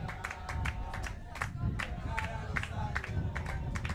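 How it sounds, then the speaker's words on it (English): Spectators in the stands at a European Ultimate Championships 2015 frisbee match between Finland and Italy clap in a ragged, uneven rhythm, the claps sharp but fairly distant over a soft crowd murmur. "Seems they can't clap in time"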